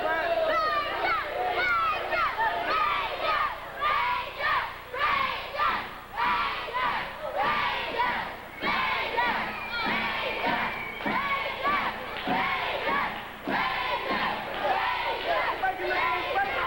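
A wrestling crowd cheering and chanting for a wrestler, loud rhythmic shouts with many children's voices rising and falling in waves throughout.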